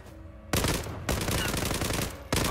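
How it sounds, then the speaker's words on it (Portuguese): In the shooter game Zula, long loud bursts of automatic gunfire rattle close up, two sustained sprays followed by the start of a third, with no talking over them. "Nossa, o cara tomou uma rajada."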